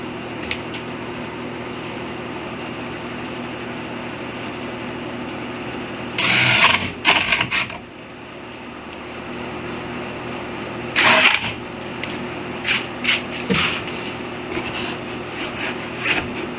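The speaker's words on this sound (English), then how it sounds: "I'm just going to drive some screws in" A power drill drives number 6 half-inch screws into a wooden wine display cabinet in several short whirring bursts, with quiet gaps and handling noise between them.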